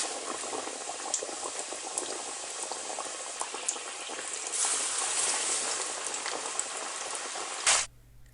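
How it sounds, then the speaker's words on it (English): Chicken fillets deep frying in hot oil for a first fry, a steady loud bubbling sizzle with dense crackle that runs unbroken for most of the clip before cutting off abruptly near the end. "So first, fry the chicken for about 10 minutes."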